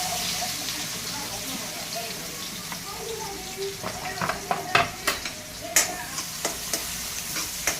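Chopped onions frying in oil with asafoetida and cumin for a village-style pithla. A soft, steady sizzle grows into a run of sharp scraping stirs against the pan near the end, up close.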